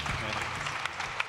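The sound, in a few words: audience applause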